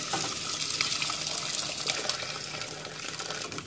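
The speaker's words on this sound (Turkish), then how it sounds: "Şimdi pişmesi için üzerine biraz sıcak su ekliyorum." Hot water poured over sautéed meat in a pot for a Şiveydiz soup, a steady continuous splashing and pouring rush close by, running without a break and with no talk.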